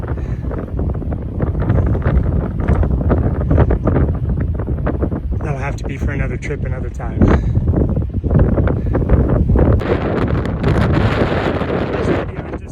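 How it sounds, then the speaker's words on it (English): Strong wind buffeting the microphone at the Grand Canyon, roaring and gusting loudly throughout while someone talks briefly over it. "allowing you to hear how much wind there is"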